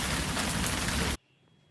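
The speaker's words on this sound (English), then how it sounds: "But it can't rain forever," Rain hammers on a sailboat off Sardinia, loud and close, then cuts off abruptly, leaving only a quiet background hush.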